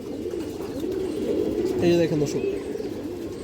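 A silver bagha male pigeon, a large bird of an old kajla-line breed, coos in low throaty pulses nearby while someone talks over it.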